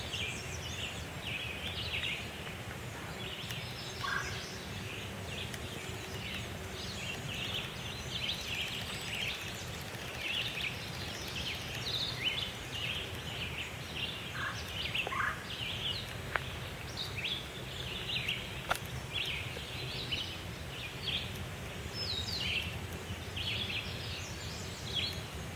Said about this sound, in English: It seems like the birds are just so much louder.